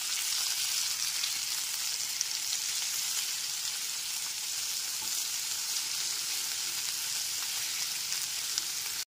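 Two chopped medium tomatoes sautéing in a pan over a low-medium flame for a spicy fish dish, giving a continuous even sizzle that stops abruptly at the end, with no voices.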